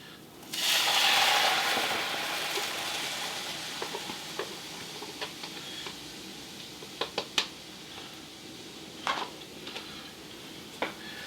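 Soaked oatmeal goes into a hot pot with a sudden wet hiss and sizzle, then fades into scattered soft clicks and taps of a utensil against the pot, close by and without talk.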